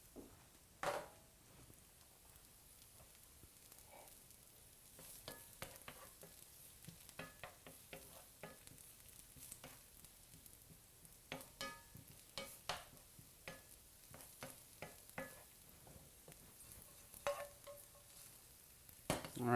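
Slivered garlic sizzles in a pan at low level, a faint steady fry broken by scattered clicks and taps of stirring and utensils against the pan.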